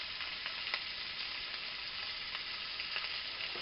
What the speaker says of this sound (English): Do you want to hear a sizzle?